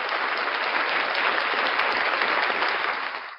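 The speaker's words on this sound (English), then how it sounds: "Round of applause for the legendary Blackheart Knight." An audience applauds loudly and steadily, a dense wash of clapping that tapers off at the end.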